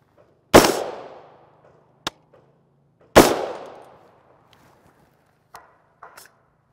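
Suppressed 300 Blackout short-barrel rifle firing 220 grain rounds, two loud sharp shots about two and a half seconds apart, each with a decaying tail, followed by faint mechanical clicks.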